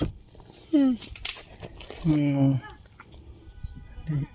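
A bird gives loud, harsh calls while being handled, three short bursts with the longest in the middle, amid rustling and people talking around it.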